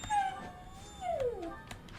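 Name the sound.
dog whining, wanting to go outside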